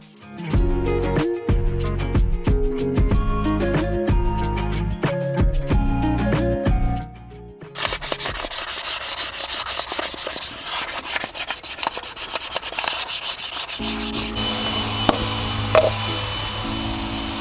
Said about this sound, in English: As this caliper is pretty new, we're just going to go in with some 800 grit.